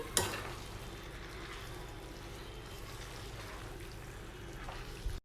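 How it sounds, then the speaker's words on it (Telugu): Tomato and gongura leaves are stirred in a cooking pan for mutton curry, a soft continuous sizzle and scraping with a sharper clatter at the start and a knock at the end, faint and without speech. "టమాటో గోంగూర బాగా కలిసేటట్టు మిక్స్ చేసుకోవాలండి"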